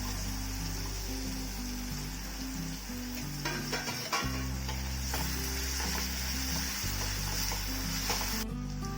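Chopped half capsicum sautéing in oil for chili chapati gives a constant, hissing sizzle with scattered stirring clicks, while soft background music plays underneath and nobody speaks.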